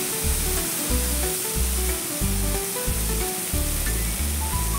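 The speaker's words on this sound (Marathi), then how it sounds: "कोथिंबीर तेलामध्ये अशी परतली की मसाल्यांमध्ये वगैरे हे असा छान असे परतून झालेले आहे" Coriander leaves frying in hot oil with spices for a sprouted matki usal, a continuous loud sizzle broken by rhythmic scraping stirs in the pan.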